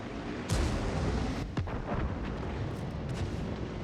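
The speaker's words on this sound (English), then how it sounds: "And here's my artillery strike." Artillery strike fired from a self-propelled gun in the World of Tanks Frontline mode: a sharp blast at the start and a second crack a second later, over dense rumbling battle noise with no talk.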